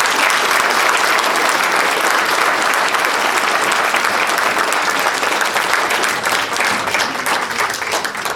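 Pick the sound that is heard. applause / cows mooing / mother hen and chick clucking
applause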